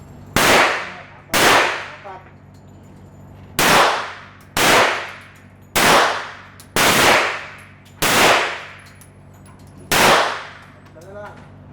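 An Armscor RIA 1911 .45 ACP pistol fires eight loud, sharp shots at an indoor range in Makati, Manila, each with a ringing decay, spaced irregularly about a second or two apart.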